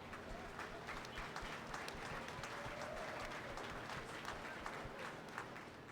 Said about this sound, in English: give all of the participants this evening a round of applause